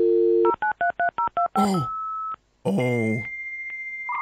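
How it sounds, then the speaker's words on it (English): A video game plays a dial-up internet connection sound: a rapid run of touch-tone dialing beeps, then modem screeches, a steady tone and warbling handshake noises, loud and close. A brief voice exclamation is heard. "Dial up internet, baby."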